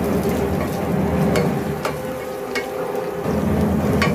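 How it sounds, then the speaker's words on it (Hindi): Cumin, cinnamon, star anise, black pepper and cloves fry in a pan over a medium flame for keema matar aloo, giving a close, continuous crackling sizzle with faint stirring. "अभी हम इसके अंदर जीरा, दालचीनी, स्टार फूल, काली मिर्च, लौंगे वो डाल देंगे, इसको फ्राई कर लेंगे दो मिनट।"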